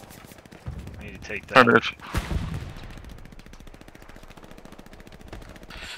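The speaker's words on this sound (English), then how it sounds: "Getting shot at, but I can't tell where from." Gunfire in the World War II shooter Hell Let Loose: a few sharp shots, then a burst of automatic fire, under quiet radio-style talk.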